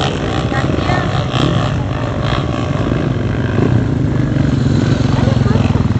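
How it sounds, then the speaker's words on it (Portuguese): Two motorcycles on a dirt trail road at a motorcycle trail ride, a steady loud engine drone with throbbing low rumble running the whole time, close and unbroken. "E aqueles dois sons no meio da estrada lá, ó. De moto."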